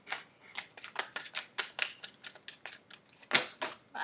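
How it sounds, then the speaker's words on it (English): A deck of tarot cards is shuffled by hand in a burst of quick, crisp riffling snaps with an uneven rhythm, close up, with no talk. "I'm going to do two more shuffles."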